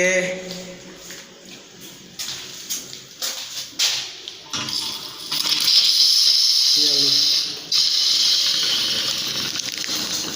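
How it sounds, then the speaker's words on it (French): A voice speaks, then a tap in an apartment building opens and water rushes out in a loud, steady hiss that continues with a brief break. "quand vous ouvrez parfois le robinet comme ça fait ça"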